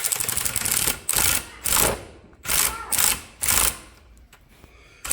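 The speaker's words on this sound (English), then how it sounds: "when you tighten it down, it'll push the spring down" A valve spring compressor tool is tightened down on an LS engine valve spring, producing five loud, close bursts of rapid mechanical ratcheting, each about half a second long and separated by short pauses.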